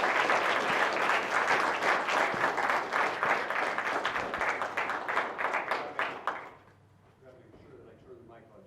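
An auditorium audience gives steady, loud applause welcoming two speakers at an institute event, dense clapping that fades out after about six seconds into quiet room noise.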